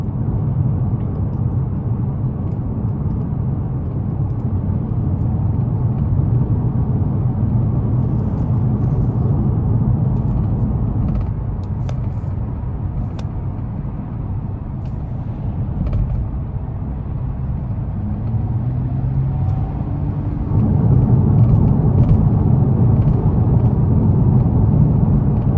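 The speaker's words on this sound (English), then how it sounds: "So next it's time to take this Maxima SR out on the road for a quick test drive" A 2021 Nissan Maxima SR on a bumpy back road at night, heard as a steady low rumble of road and engine noise from inside the cabin, continuous with no talk.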